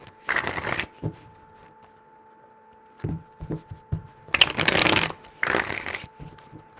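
Tarot cards are shuffled by hand in three separate bursts of brisk riffling, with short quiet pauses and faint handling sounds between them.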